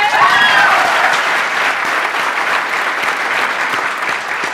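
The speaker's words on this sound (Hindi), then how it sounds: "इन लोगों के लिए जोरदार तालियां।" Loud, dense applause from a large seminar audience, a continuous roar of many hands clapping close and full, staying strong throughout with a slight easing near the end.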